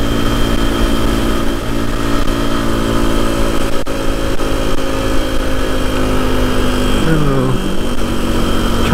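A Suzuki DR200 motorcycle cruises on a highway, with a loud, steady single-cylinder engine drone and wind noise close up, and a brief downshift near the end.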